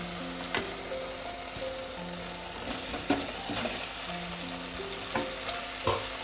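Chicken wings in tomato sauce with a pinch of sugar sizzle steadily in a pan, broken by several sharp scraping clatters as a spoon stirs and mixes them, close and fairly quiet.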